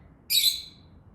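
Lovebirds give a single burst of bright, high-pitched chirps and squawks lasting about a third of a second. The sound is close and fairly loud over a quiet room background.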